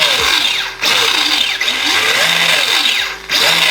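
Rlaarlo XTS F10 V3 RC rally car accelerating repeatedly, loud close motor whine rising in pitch in three or four runs, each split by brief drops as it shifts or eases off.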